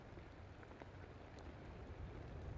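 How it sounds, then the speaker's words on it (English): Steady rain falls outdoors at a rocket launch site, a soft continuous hiss with faint scattered patters, fairly quiet and even throughout, with no voices. "These rain sounds are almost putting me to sleep"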